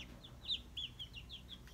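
A white hen clucks softly outdoors in a short run of faint chirpy calls, distant and quiet against a light background hiss.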